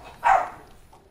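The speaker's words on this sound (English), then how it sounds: "It's just my dog." A single sharp bark from Pugsley, a pet dog, lands close by and fairly loud, followed by a quiet room with no one talking.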